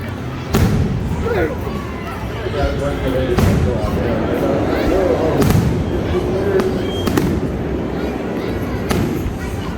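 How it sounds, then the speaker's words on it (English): Repeated booming bursts of fireworks at Six Flags Magic Mountain on the 4th of July weekend, some sharp and close, others duller, over a steady murmur of a crowd and chatter. "Six Flags fireworks."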